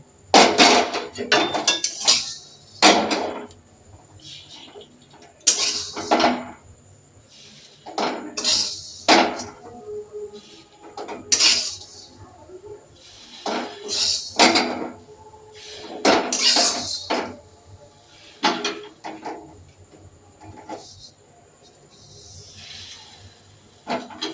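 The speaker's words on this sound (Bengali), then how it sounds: "এবার আমি সেমাইটা দিয়ে দেবো আস্তে আস্তে।" Metal utensils clink and scrape against a cooking pot while vermicelli (semai) is added to boiled milk, producing a series of sharp, irregular clatters and taps with quieter stirring between them.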